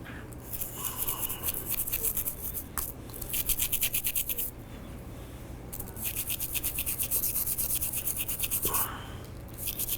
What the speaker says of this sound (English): Now we're going to wet brush what we just finished dry brushing.